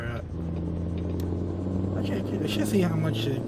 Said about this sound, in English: that's a weird sound that my engine's making